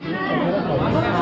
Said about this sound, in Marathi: ही आहे गर्दी आणि आम्ही अडकलेलो आहे या गर्दीत.